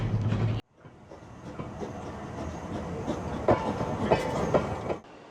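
Rocket replica steam locomotive moving forward on rails, a steady clickety-clack of wheels over track joints with rumbling carriage noise, moderately loud and close, starting after a brief pause.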